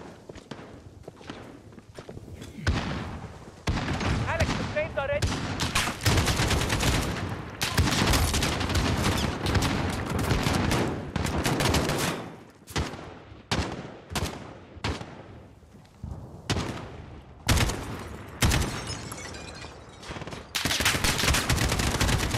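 AK rifle fire in Call of Duty Modern Warfare comes in repeated loud bursts and long sustained strings of shots, separated by brief quieter gaps with footsteps and game ambience. No one speaks during the shooting.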